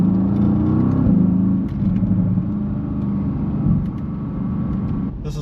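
Low, steady engine rumble and road drone of a Chevrolet Corvette C8 with its engine mounted right behind the seats, heard from inside the cabin, a smooth continuous hum with a slight dip midway.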